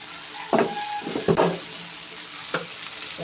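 Mixed vegetables with tofu are stirred in a frying pan, a constant sizzle broken by a few scraping strokes of the spoon across the pan.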